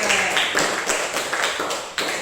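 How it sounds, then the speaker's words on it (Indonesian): A classroom of students gives a short burst of applause for a classmate, a quick run of sharp claps and taps rising and falling in a few rapid waves. "Beri aplaus dulu untuk temannya."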